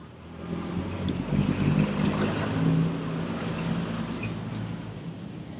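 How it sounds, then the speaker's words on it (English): A garbage truck driving past outdoors: a low, rumbling engine drone that swells as it nears and then holds steady at moderate loudness, with broadband road noise and no talking. "There's a garbage truck going by."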